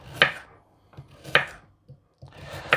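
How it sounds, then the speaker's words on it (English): Hand chopping of vegetables such as carrot on a board for batch cooking: three slow, uneven knife strikes spaced about a second apart, fairly close and alone. "I'm not very good at chopping just now."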